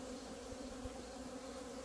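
Honeybees at an open hive make a dense, steady buzz that hums on evenly for the whole short moment, close and soft, with no voices.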